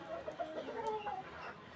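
A gamecock rooster clucking softly, with a quick run of short, quiet clucks close by over low background noise.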